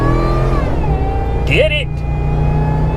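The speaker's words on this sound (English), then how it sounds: "Listen to this supercharger." Supercharged car engine winding up as it accelerates onto a highway, a rising whine over a loud cabin drone, with someone talking briefly over it.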